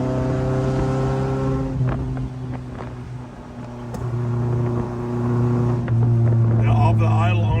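A 1979 Fiat 124 Spider 2000 engine fitted with dual 44 IDF carburetors revs steadily at close range, holding a sustained multi-cylinder drone that rises and settles, with faint voices talking underneath.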